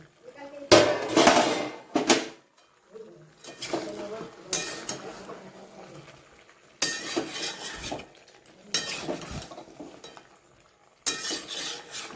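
Metal pot sounds as a cooking pot lid is lifted off chicken curry in a Bengali kitchen, several loud clanks and scrapes in separate bursts with quiet gaps between them, close by.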